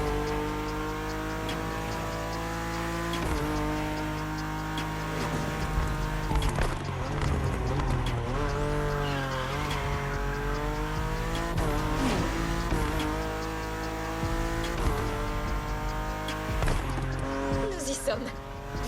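A BMW M4 races in The Crew Motorfest video game, its engine a steady loud drone that rises and falls with gear changes and tire squeal, with a voice talking over parts of it.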